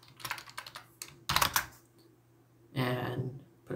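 Fingers type on a computer keyboard in quick bursts of clicking keystrokes, close and fairly loud, with short pauses between runs and no talk.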